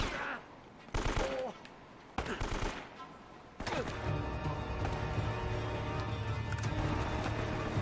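Video game gunfire from Uncharted crackles in rapid bursts: two short volleys early on, then a sustained stream of shots layered with background music, loud and close.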